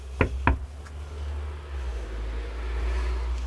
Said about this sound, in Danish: Banker vi lige på.